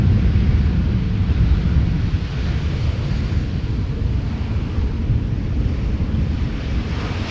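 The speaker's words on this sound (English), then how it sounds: "if the wind keeps picking up again" Strong wind buffets the microphone at Amsterdam Schiphol Airport with a loud, continuous, rushing roar and no break for the whole stretch.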